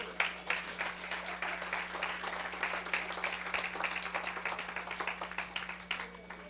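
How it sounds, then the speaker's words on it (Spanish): Congregation applauding at a church service, dense steady clapping from many hands throughout, moderately distant over a low steady hum. "Pues démosle un aplauso al Señor"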